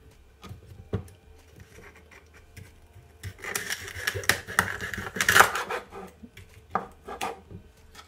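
A knife chops celery on a cutting board for juice, a series of irregular crisp taps and crunches, busier and louder in the middle, close and alone.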